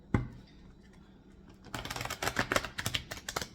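Tarot cards being shuffled close up: one soft tap, then a dense run of quick riffling clicks and flutters, faint and without talk.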